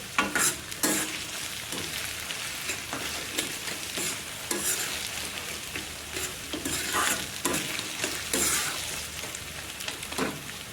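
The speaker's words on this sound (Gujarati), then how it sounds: "ધીમા ગેસે આપણે આ રીતે હલાવી દઈશું" Peanut curry stirred in a pan on a low flame, a steady sizzle with repeated scraping strokes of a spoon throughout.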